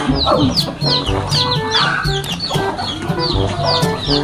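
A rooster clucks repeatedly and close to the mic, with busy overlapping chicken calls and short squawks repeating throughout in a lively farmyard.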